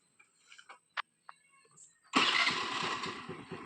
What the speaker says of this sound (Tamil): வண்டி ஸ்டார்ட் பண்ணுறோம் பாருங்கள்.